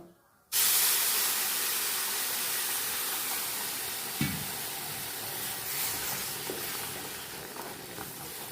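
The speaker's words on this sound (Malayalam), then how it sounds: "ഇനി നമുക്കിതിലേക്ക് മൂന്ന് ഗ്ലാസ് തിളച്ച വെള്ളം ഒഴിച്ചു കൊടുക്കാം" Boiling water poured into a hot pan of roasted upma mix sets off a loud, sustained steaming hiss that starts abruptly and slowly eases, with a few faint clinks of stirring.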